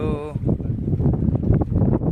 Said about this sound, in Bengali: তো ফাইনালি গাইস চলে এসেছি নৌকায়,